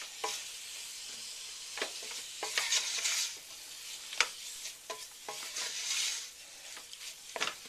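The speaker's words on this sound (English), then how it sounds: "I'm going to give that a stir. So we're going to coat that meat really well." Ground meat with chili powder, cumin and salt stirred in a hot pan for southwest chicken chili, soft sizzling under repeated scraping strokes and occasional utensil clicks, fairly quiet and close, no speech.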